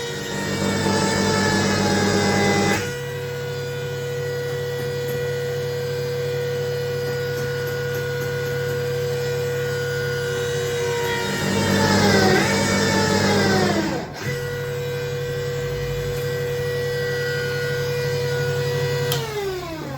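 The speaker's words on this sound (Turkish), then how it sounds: "Azada sıkıştırınca pompa kasıyor" A Mitsubishi L200 idles with its power steering pump straining, a loud steady whine and hum with a strained rising tone around the middle and a brief dip, continuous and close throughout.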